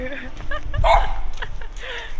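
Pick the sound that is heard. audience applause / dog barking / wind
dog barking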